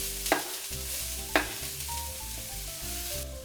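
Onions sizzle and fry in a pan while being stirred, with two sharp spatula clacks over a steady close hiss and no talking.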